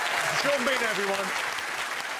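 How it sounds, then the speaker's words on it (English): A television comedy game show's studio audience claps and cheers. Loud, steady applause runs throughout, with a voice briefly speaking over it. "give him a round of applause"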